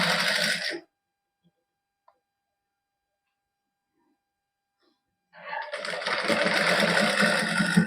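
A sewing machine stitches lace onto a lined, embellished suit, running in a brief burst, falling silent for several seconds, then starting again in a longer, steady run that continues to the end.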